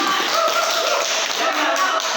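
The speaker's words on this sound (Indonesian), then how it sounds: "Kita beri tepuk tangan untuk" A classroom of students applauds a classmate with dense, steady clapping that stays loud and even throughout, with no voices.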